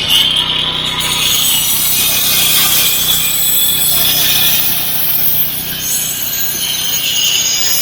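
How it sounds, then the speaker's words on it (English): An angle grinder cuts through a rolled slate patio along a marked line, giving a loud, steady abrasive whine with a high gritty hiss that holds for the full stretch with no talk. "I'll get a grinder and go right through there."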